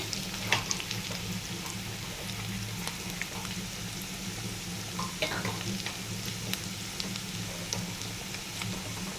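Onions frying in a pan with ginger-garlic paste for chicken liver curry: a steady, even sizzle with faint spoon clicks scattered through, moderately quiet, with no talking.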